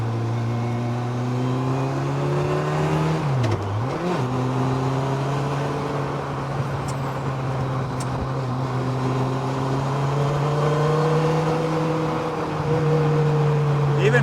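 A 2007 Campagna T-Rex trike with a 200 hp Kawasaki 1350cc engine and six-speed gearbox revs hard, a loud, close, sustained engine drone with a brief dip and recovery in pitch as it climbs.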